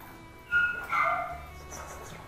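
A puppy and adult dogs playing with a chew toy give short yips and whimpering whines close by, two brief bursts followed by softer rustling.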